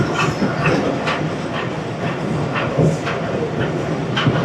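Train pulling into Rig Road station in Pakistan, the Sir Syed Express from Karachi to Rawalpindi, with a rumbling rolling roar and repeated clickety-clack of wheels over rail joints, loud and close.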